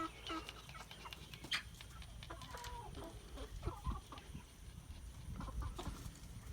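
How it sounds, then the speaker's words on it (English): Scattered clucks and squawks from a flock of mostly roosters with some chickens at an off-grid chicken coop, fairly faint and distant, with brief calls popping up over a quiet outdoor background. "Most of these other birds are roosters."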